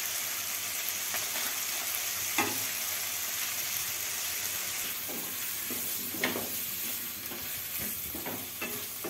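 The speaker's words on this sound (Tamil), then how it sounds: "இதை நல்லா கிண்டி விட்டுட்டு" Turmeric and sambar powder are stirred in a sizzling frying pan, with a constant hiss of frying and several sharper scraping strokes of the spoon against the pan.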